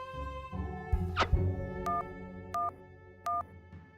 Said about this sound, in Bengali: বড়বাবু ফোন।